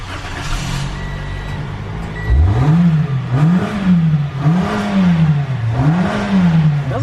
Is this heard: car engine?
yes